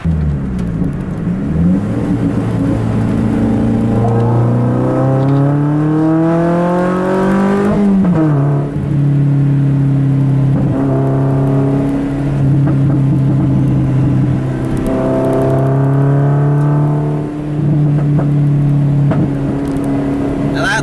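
A Lotus sports car engine accelerates on a drizzly drive from Monaco toward Geneva. The engine is loud and close, its pitch climbing through repeated rising sweeps with gear changes in between, droning continuously for about twenty seconds.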